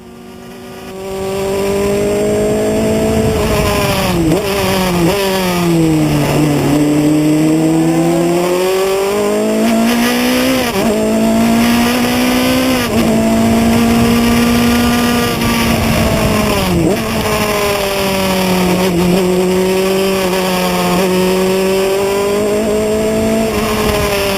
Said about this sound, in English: give you some native audio for a few minutes again. I just love the sound of the car.